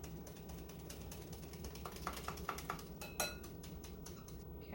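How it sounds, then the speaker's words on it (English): Flour mixed with salt and baking powder being sifted for double chocolate brownies, heard as a run of soft, rhythmic rattling taps from the sifter with light metallic clicks, close by over a steady low hum and no talking. "So now I'm just going to sift the flour with the salt and baking powder in it."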